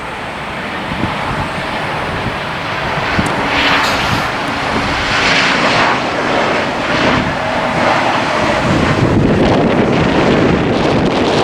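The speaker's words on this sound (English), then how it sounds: "That right there is a KLM 747 8K2, which is just a version of the 800" KLM Boeing 747-8 airliner passing overhead at night, a broad, loud roar of jet engines swelling steadily and mixed with heavy wind buffeting on the microphone, no talking.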